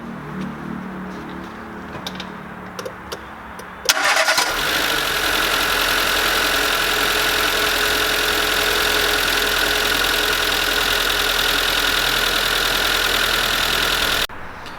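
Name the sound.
Renault Clio 2 1.2L engine first start after timing belt job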